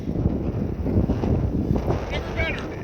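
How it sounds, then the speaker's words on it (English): Strong wind on open water with a small wake, producing a steady loud rush and buffeting across the microphone, with faint voices in the background. "It's pretty damn windy."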